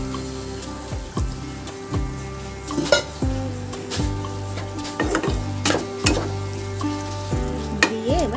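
Paneer bhurji sizzles in a pan as a little water is added, a steady frying hiss with repeated metallic scrapes and clinks of a spoon stirring against the pan, close and without speech.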